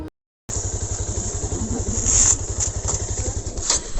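A motorcycle idles close by with a steady, throbbing low rumble after a brief silent gap, punctuated by a faint high whine and a few light clicks.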